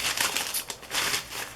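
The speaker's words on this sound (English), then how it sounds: "pull out some more rice paper for that page" Rice paper pulled out for a journal page, crisp close crinkling and rustling in several quick bursts with a short lull in the middle.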